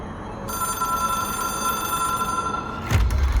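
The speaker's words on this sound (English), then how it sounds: "It is a phone." An old-style telephone rings in the video game Control, a steady sustained electronic bell tone that keeps going for a few seconds before a low thump cuts in near the end.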